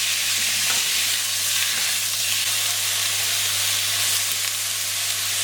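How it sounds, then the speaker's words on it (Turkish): Meat stir-fried for a Chinese-style kavurma in a smoking-hot pan, a steady close sizzle and frying hiss with scraping stir strokes running throughout, no talk. "Hemen eti ekliyorum. Ve hızlıca karıştırıyoruz."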